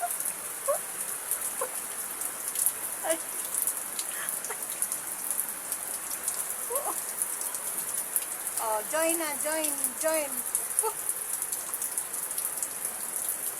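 Steady rain patters across a surface in a constant hiss, with brief voices and a few distant bird calls breaking through.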